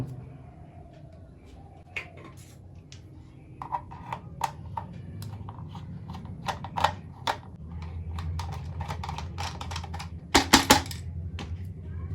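A screwdriver working the screw on a faulty emergency light, a run of irregular small clicks and ticks from plastic and metal at close range, growing busier toward the end with a few louder snaps.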